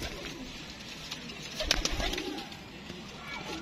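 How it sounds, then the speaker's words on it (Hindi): Pigeons coo softly on a rooftop in Gujranwala, a low, faint, continuous murmur of calls that swells briefly into a slightly louder cluster midway, with distant background noise around them. "ये देखें ये कबूतर है"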